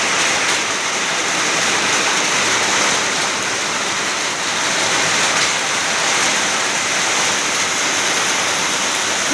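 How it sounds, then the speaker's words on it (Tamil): Steady, dense summer rain pours down in a continuous loud hiss, broadband and unbroken, with no voices. "கோடை மழை"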